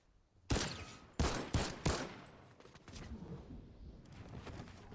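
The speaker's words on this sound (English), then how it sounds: "I want to shoot at him and whiff 47 times." Fortnite gunfire: four sharp, loud shots in quick succession, then softer scattered pops and rumble, with no talk.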